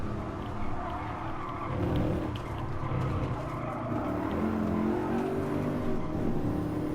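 A Renault Mégane racing in Gran Turismo Sport, its engine droning steadily with shifting pitch and tire noise, loud and continuous with no voices over it.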